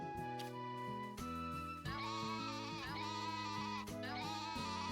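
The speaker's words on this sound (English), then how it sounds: "Oh my goodness, sheep, I hear you." Farm sheep bleat repeatedly in Story of Seasons: A Wonderful Life, wavering calls layered over the game's light melodic background music, with no talking.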